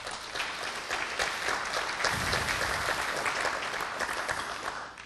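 An audience at a 2009 Missouri energy summit on a college campus breaks into applause during the governor's speech, with full, continuous clapping from many people that fades slightly at the very end.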